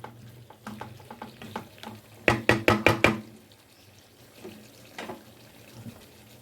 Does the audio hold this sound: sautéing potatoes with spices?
yes